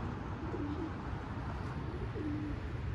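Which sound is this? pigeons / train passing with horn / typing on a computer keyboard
pigeons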